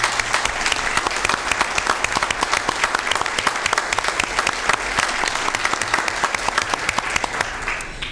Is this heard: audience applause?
yes